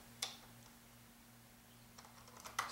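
Quiet typing on a computer keyboard: a few scattered key clicks near the start and a short cluster toward the end, close but faint over a low steady hum, with no talking.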